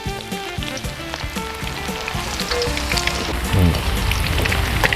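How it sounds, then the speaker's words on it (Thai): Eggs frying in hot oil for Thai son-in-law eggs, a steady dense sizzle and crackle close up, growing slightly louder toward the end. "ตอนนี้ผมก็จะทอดในน้ำมันค่อยๆทอดไปอ่อนๆไปเรื่ อย"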